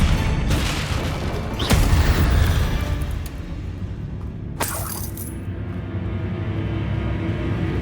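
Confringo spell explosions in the Hogwarts Legacy video game: a heavy blast with a crackling burst near the start, then another sharp bang midway, with rumbling debris and a low game ambience between.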